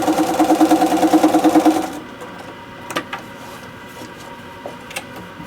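A home sewing machine stitches through foundation-pieced log cabin quilt fabric in a fast rhythmic whir for about two seconds, then stops, leaving quiet handling clicks and taps.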